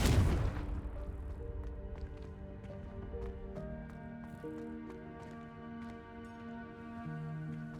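The Confringo fire spell in Hogwarts Legacy bursts with a loud opening boom, then fades into a sustained, ringing magical shimmer with layered musical tones that slowly trail away.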